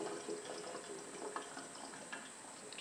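Tap water, kept lukewarm rather than hot, runs into a container to soak raw meat, a faint, steady trickle and splash with small bubbling accents, no voices.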